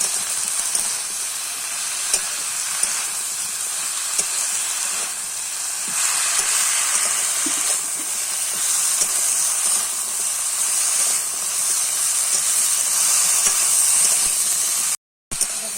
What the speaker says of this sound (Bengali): এবার এটাকে খুব ভালো করে ভেজে নেব।